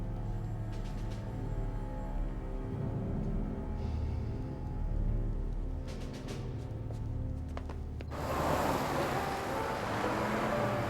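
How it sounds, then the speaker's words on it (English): An Avro Iroquois jet engine running on a test stand: a low, steady rumble gives way about three-quarters through to a sudden, loud, broad roar that keeps going to the end. "Sounds like Critchley's got the Iroquois up and running again"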